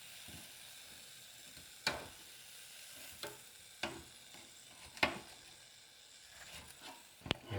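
Boneless garlic country-style pork ribs sizzle steadily in an air fryer basket while being flipped, with a low crackling hiss broken by several sharp clacks of tongs and metal at irregular intervals, fairly quiet overall.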